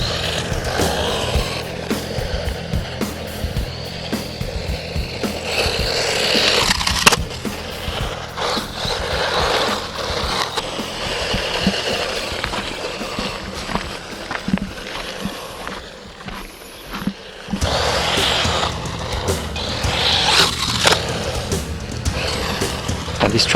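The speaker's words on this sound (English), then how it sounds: "It is a basher off-roader." RC basher off-road buggy running on 2S batteries across a dirt track, its electric motor whining and surging with rough crunchy bursts of tires on dirt, fairly loud and continuous, with a brief dip midway.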